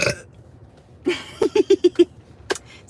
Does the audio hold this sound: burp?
yes